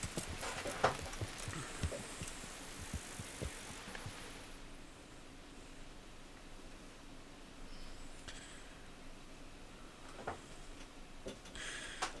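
Hooves of a horse clip-clop faintly in Kingdom Come Deliverance, a brisk run of taps in the first few seconds, then sparser steps and distant ambience with a few clicks later on.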